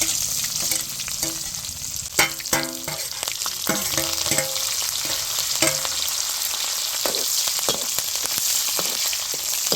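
Two chillies fry in hot tempering oil with a loud, continuous sizzle, punctuated by a burst of stirring scrapes and clinks near the start, close and without voices.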